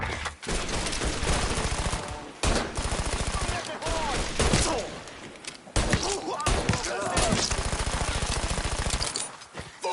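Bursts of rapid gunfire in the Mafia III video game, loud, repeated volleys with brief pauses between them, with a voice shouting over the shooting.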